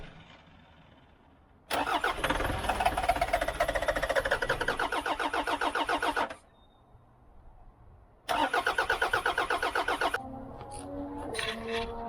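A Toyota Land Cruiser Prado 120 diesel engine is cranked by the starter in two long bursts of rapid, loud, close whirring with a quiet pause between them, without catching, ending in faint clicking.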